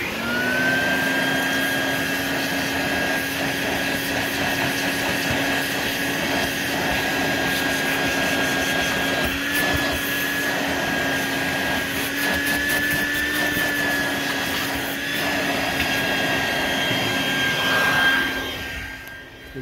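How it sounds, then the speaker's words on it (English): A vacuum cleaner's steady, loud motor whine drones continuously inside a 2009 Toyota Corolla, with a high-pitched tonal hum on top, holding nearly constant before easing at the end. "Try to get some of this vacuumed up."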